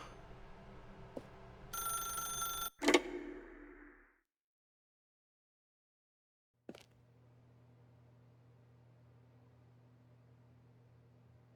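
A telephone rings inside the video game The Stanley Parable: Ultra Deluxe, giving a bright electronic bell burst followed by a sharp click, then silence, then a faint steady hum.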